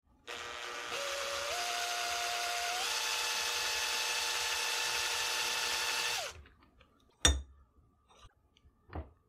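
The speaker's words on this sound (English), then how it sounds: "Then I'll use a drill bit smaller than the inside, just to touch and remove the excess solder." A small drill bit grinds excess solder from inside a brass 9mm pinfire cartridge casing, a steady high whine lasting about six seconds before stopping, followed by a couple of light metallic clinks.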